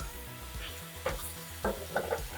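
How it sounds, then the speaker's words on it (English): Spinach being stirred as it wilts in a pan: a quiet, steady soft sizzle with a few light scraping strokes of the spoon, near and with no talk. "So keep stirring it for a few minutes."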